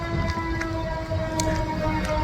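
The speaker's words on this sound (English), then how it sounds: "so there's the sirens" Sirens wail steadily in the distance outdoors, a sustained tone held under a dense bed of low background rumble, with no voices.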